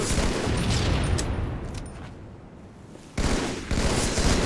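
Gunfire in a western-themed shooter game, a dense burst of broadband shots that fills the first seconds, drops back, then bursts loudly again near the end, with no talk.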